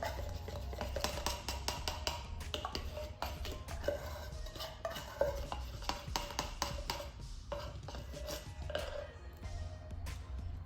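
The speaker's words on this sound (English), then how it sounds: "Use a spoon to get out everything you possibly can out of the container." A spoon scrapes sweetened condensed milk out of its container for chocolate truffles, a long run of quick, faint clinks and scrapes close by with little pause.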